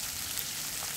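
Food sizzles in a pan while cooking for a Kerala thiyyal curry made without coconut: a steady, soft, crackling fry noise runs for about a second without pause.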